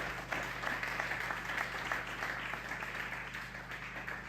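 Church congregation applauding together, a steady wash of clapping hands sustained throughout with a low hum underneath, moderately loud and fairly close.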